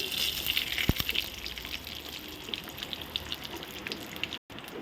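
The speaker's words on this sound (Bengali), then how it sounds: "দিয়ে আমি একটু ঘিয়ের মধ্যে সব কিছু ভেজে নিলাম" Bay leaves, cashews and raisins fry in ghee with cardamom, cinnamon and cloves, making a steady, close sizzle with one sharp clink near the start.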